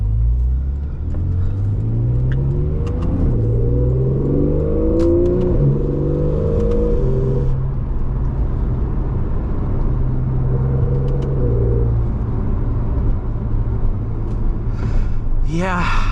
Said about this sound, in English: the one thing with this car is just the noise